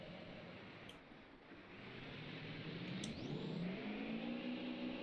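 A Duramax truck engine in BeamNG.Drive revving up steadily as the truck pops a wheelie, a faint mid-pitched engine drone rising in pitch and loudness over several seconds with no talking.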